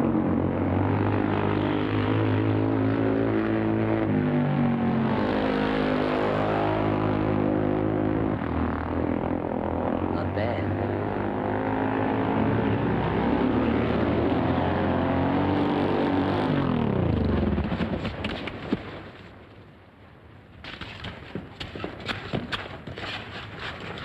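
A motorcycle engine run at full throttle in a 1940s film, as a loud sustained roar that drops off sharply near the end, then gives way to rattling and clattering noises.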